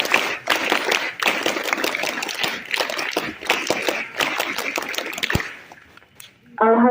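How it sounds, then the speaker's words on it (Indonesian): A scout troop at a school assembly doing the Pramuka group clap: sharp, loud, closely spaced rhythmic claps from many hands in quick bursts, with a short voice at the end. "Dua kali tepuk pramuka."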